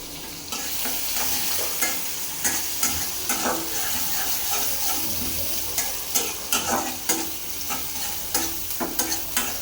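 A pan of lentils being dry-fried for dal bhuna sizzles steadily while a spatula scrapes and stirs in repeated rhythmic strokes, loud and close with no talk.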